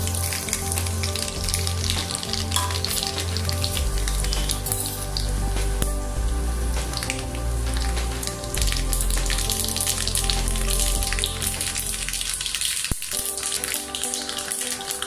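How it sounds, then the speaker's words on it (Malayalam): Mustard seeds spluttering and crackling in hot oil for a Kerala-style dish, a dense, steady sizzle of quick pops that stays loud and close throughout with no talking. "എണ്ണ ചൂടായിട്ടുണ്ട് നമുക്ക് അതിലേക്ക് ആവശ്യമായിട്ടുള്ള കടുക് ഇട്ട് കൊടുക്കാം"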